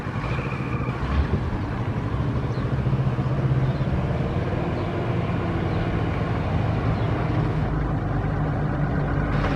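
A classic Leyland lorry rumbles past with a steady, throaty diesel engine drone at moderate loudness, building slightly then holding, heard alone.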